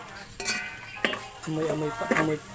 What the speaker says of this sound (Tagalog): Tapos yung mais, ginisa ko muna para po masarap.